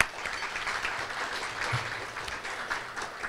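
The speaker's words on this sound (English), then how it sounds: "let's give her a round of applause" A round of applause from the audience at a Pasco Chamber of Commerce luncheon, a steady, dense patter of many hands that stays fairly soft and even from start to finish.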